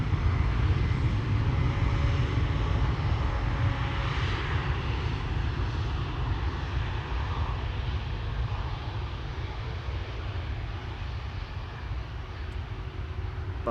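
An Air France Bombardier C Series airliner at Amsterdam Schiphol Airport produces a steady, loud jet engine roar that holds throughout, gradually easing slightly toward the end with no voices.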